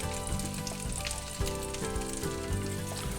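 Giotte, a Belgian potato mash, reheats in a frying pan and gives off a steady, close sizzle and crackle with no pause, alongside meatballs cooking in the same pan.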